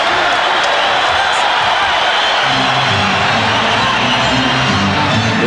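Phoenix Suns home crowd at a 1993 NBA game against the Denver Nuggets, a broad sustained murmur of many voices filling the arena, with a low rumble of voices building toward the end.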